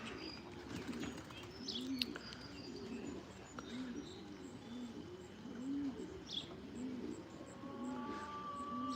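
Racing pigeons returning to a home loft, cooing in a steady rhythmic series of soft low calls, with occasional chirps and faint wing flaps in the background.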